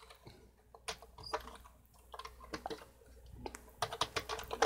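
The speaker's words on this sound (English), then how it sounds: "I will type it in." Fingers type on a computer keyboard in irregular bursts of close, crisp key clicks with short pauses between them, faint and without any talk.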